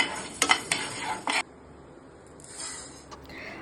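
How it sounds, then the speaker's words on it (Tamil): Moong dal being dry-roasted in a kadai, a metal spoon scraping and clinking against the pan in a quick burst of stirring strokes before it goes quiet, then a softer rustle of stirring later. "அதில் பைத்தம் பருப்பு நம்ம எடுத்து வச்ச பைத்தம் பருப்பை நல்லா செவக்க ரோஸ்ட் பண்ணணும்"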